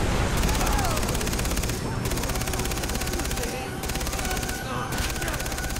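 Rapid, sustained gunfire in the Far Cry 3 video game, with dense overlapping automatic bursts broken by brief pauses and loud, continuous shooting throughout.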